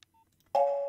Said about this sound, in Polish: Idę wykonać telefon.